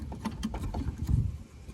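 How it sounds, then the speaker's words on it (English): A BMW low-beam headlight bulb is twisted into its socket and locks in place, with short close-up plastic scraping and ratcheting clicks. "I simply just turned it a little bit to the left and it got locked"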